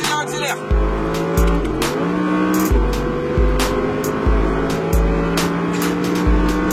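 An Audi R8 RWS accelerates on the Le Castellet circuit, its engine climbing loudly through repeated upshifts with a rising then dropping whine at each change, recorded close inside the car while an instructor talks over it.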